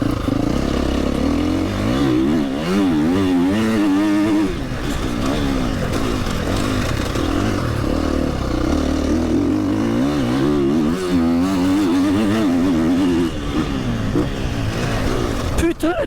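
Dirt bike fitted with an MX silencer revving hard on a track during a sound-meter test, loud and steady throughout with repeated rising and falling engine sweeps and people talking over it.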